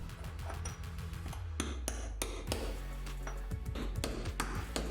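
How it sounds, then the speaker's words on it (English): Small hammer and chisel chipping at the centre of a wall tile, a run of sharp taps and clinks, some quick and close together, others spaced out, against a faint low background. "start with a small hammer and chisel in the centre of the tile, nibbling away until you manage to get through"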